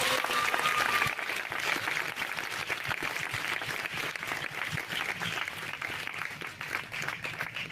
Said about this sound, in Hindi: आइए प्रभु के लिए अच्छी ताली बजाएंगे।